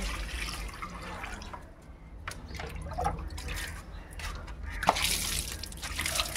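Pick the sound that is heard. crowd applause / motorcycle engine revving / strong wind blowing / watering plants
watering plants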